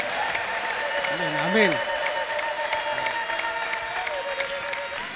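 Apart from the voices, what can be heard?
congregation applauding and ululating in church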